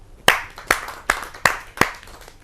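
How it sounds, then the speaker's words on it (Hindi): Five sharp hand claps, evenly spaced and fairly close, ring out at a Hindi kavi sammelan poetry gathering, each a crisp slap with a short tail and quiet between. "तो आइए जोरदार तालियों से आपको बुलाते हैं।"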